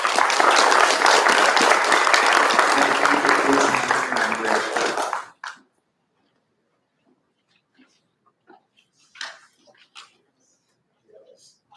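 A county spelling bee audience gives a loud, even round of applause for about five seconds before it cuts off sharply, leaving a quiet room with only scattered small shuffles and faint noises.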